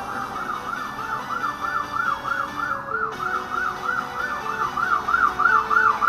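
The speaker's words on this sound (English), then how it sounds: "We're going to wait for that siren to pass." A wailing emergency-vehicle siren sweeps up and down in a steady, repeating yelp, loud and continuous, with a low rumble of road traffic beneath it.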